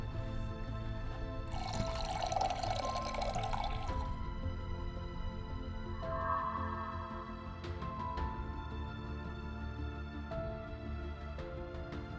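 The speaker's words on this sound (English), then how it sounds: "And pour the wine in." Wine poured into a glass in the game Detectives United, a short liquid trickle and splash over a soft musical background, followed by a second fainter pour.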